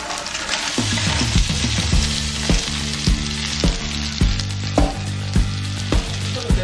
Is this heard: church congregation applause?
no